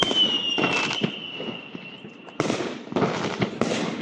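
Fireworks bursting during a night walk, a run of sharp cracks and pops at close to moderate range with a whistling rocket trail early on, followed by dense crackling bursts.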